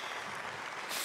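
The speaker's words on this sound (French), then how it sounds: "des applaudissements dans la salle Jupiter actuellement" Applause fills the Jupiter control room as the Ariane 6 mission succeeds, a steady broad wash of clapping hands that holds evenly throughout and swells slightly near the end.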